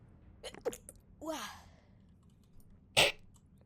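A single sharp sneeze bursts out near the microphone late in the clip, preceded by a few small breathy sounds and a sigh-like exhale in a quiet room.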